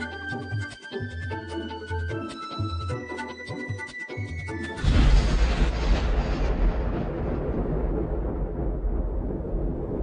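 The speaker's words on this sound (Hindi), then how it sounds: "मुझे लगता है बहुत जोर का तूफान आने वाला है।" A deep thunder rumble from an approaching storm bursts in suddenly after a musical passage and then rolls on loudly, broad and booming, slowly easing without fading away.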